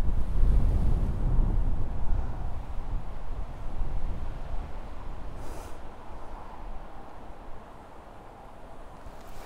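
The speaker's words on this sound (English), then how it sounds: "The wind's getting a bit too up now." Strong wind buffeting the microphone at a fishing lake bank, a loud, rumbling roar that gusts and then slowly eases over several seconds, with no talking.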